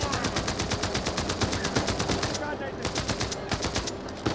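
Rapid machine gun fire in the video game Uncharted 4, a dense, evenly spaced stream of shots lasting several seconds, fairly faint in the mix with brief gaps near the end.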